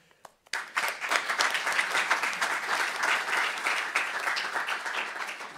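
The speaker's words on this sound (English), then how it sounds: "please a big applause for that" Keynote audience bursts into sustained applause after a brief pause, a dense wash of clapping that holds steady and slowly tapers.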